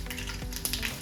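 Cumin seeds sizzle in hot oil for a short moment, giving a dense, close crackling hiss with a few sharper pops and no voices.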